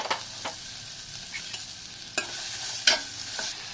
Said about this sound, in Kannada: ಒಂದು ಬಟ್ಲಿಗೆ 1 ಸ್ಪೂನ್ ತುಪ್ಪ ಹಾಕಿ ಈರುಳ್ಳಿ ಹಾಕಿ ಫ್ರೈ ಮಾಡ್ಕೊಳ್ಳಿ